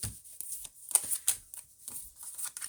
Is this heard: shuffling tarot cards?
yes